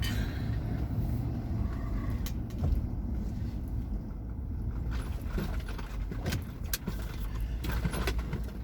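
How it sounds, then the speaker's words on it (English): Cars pass steadily along a busy road while a truck sits nearby, a faint, continuous traffic rumble with soft whooshes and no talking. "All these cars."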